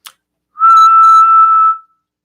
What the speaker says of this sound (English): Yep, I do know how to whistle.